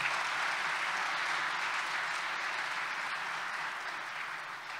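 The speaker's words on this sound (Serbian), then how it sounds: "Ja vas molim da jednim aplauzom pozdravimo sve sagovornike." An audience at a public science panel discussion applauds the guest speakers, a dense, continuous roar of many hands that holds steady and then tapers slightly toward the end, with no voices over it.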